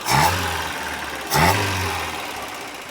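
A Peugeot 404 engine idles after a restart, with two short revs about a second apart settling into a low, steady idle close by and no talk.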